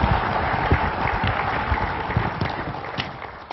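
A conference audience applauds a guest researcher, producing a continuous, fairly loud, muffled wash of clapping throughout the short stretch.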